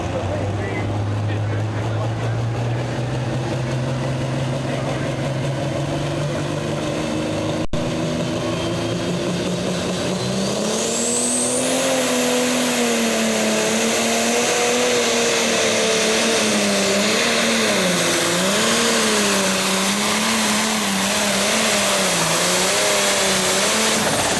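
A pulling tractor's loud, sustained engine roar at full throttle during a tractor pull competition, its pitch wavering and climbing as the machine strains, with a high whine rising over the top partway through.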